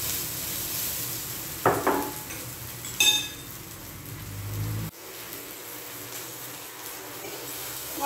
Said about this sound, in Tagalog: Add na natin guys ang bawang,